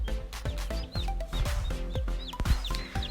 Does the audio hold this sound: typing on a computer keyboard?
no